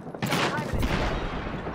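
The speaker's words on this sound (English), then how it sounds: "Airstrike." Airstrike in Apex Legends: a sudden, loud barrage of explosions and rattling blasts bursts in, with a second heavy hit shortly after, then a continuous rumbling roar of impacts fills the rest.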